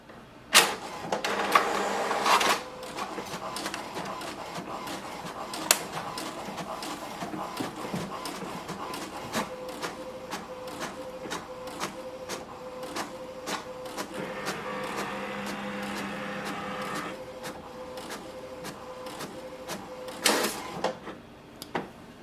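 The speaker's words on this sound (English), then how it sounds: "Wait for the printer to print the alignment page." An HP DeskJet 4355 inkjet printer runs its alignment page, with whirring feed motors, rhythmic print-head shuttling and clicking mechanisms close by, louder bursts at the start and end.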